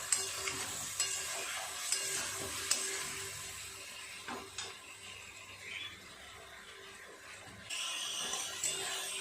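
Spices and vegetables frying for a fish curry, a soft sizzle with occasional spatula scrapes and knocks against the pan, quieter midway and then brightening again, with no speech.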